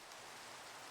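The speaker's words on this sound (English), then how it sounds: "I apologize for the rain" Steady rain pours down in a Minecraft large biomes world, a dense, even hiss of falling water that fills the short moment without any talk.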